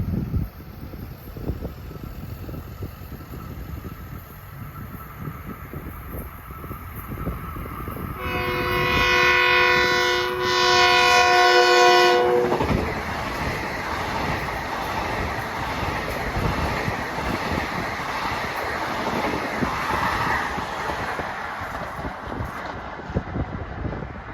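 LIRR train 1963, Ronkonkoma to Penn Station with M9 electric multiple units, rushing past with a steady rolling roar, a loud multi-tone horn sounding for several seconds midway, then continued wheel and wind noise.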